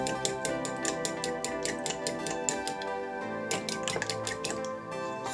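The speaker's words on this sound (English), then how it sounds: "Here I have 3 eggs, medium size. I'm going to go ahead and whisk them really well." Three medium eggs whisked hard in a bowl, a fast, steady run of close clinking taps from utensil against the bowl that pauses briefly and then resumes, with a faint musical backing underneath.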